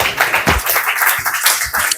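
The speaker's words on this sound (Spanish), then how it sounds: "Un aplauso," A class claps together, a loud close burst of uneven hand claps with distinct individual strikes, brief and lively.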